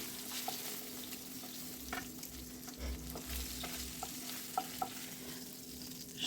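Pieces of chitol fish fry in oil in a pan with a soft, steady sizzle, broken by a few light clinks and scrapes of a utensil stirring. The sound is quiet and close.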